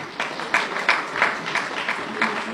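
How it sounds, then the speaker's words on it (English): An audience gives a round of applause for President Zuma, with scattered claps coming in uneven bursts of moderate loudness, some nearer and sharper than others. "Can we give President Zuma a round of applause for being flexible?"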